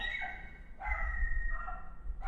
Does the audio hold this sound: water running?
no